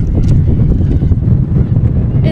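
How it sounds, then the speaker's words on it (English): Strong wind gusts across a college softball field during a game, producing a heavy, continuous low buffeting rumble against the microphone. "It's getting really windy out here. Boy, that's a strong one."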